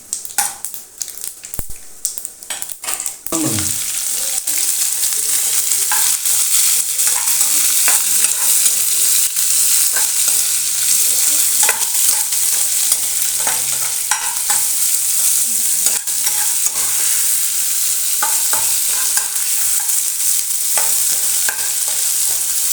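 Onions sizzle loudly in hot oil for brinjal thokku after a few initial clatters, then settle into a dense, even frying hiss broken by frequent spatula scrapes and stirs against the pan.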